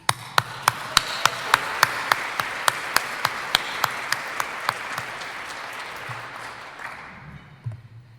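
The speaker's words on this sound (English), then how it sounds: "I invite you all to join me in a round of applause to thank Brad and also his wife, Mina." An audience at a recognition event gives a round of applause: a steady wash of clapping with a strong, evenly spaced beat of single claps that fades after several seconds.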